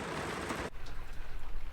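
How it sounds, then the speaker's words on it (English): Rain patters steadily on a sailing boat at anchor, a dense hiss of drops that cuts abruptly to a softer, lighter patter of rain on the deck and cabin. "It's 6:45 and raining."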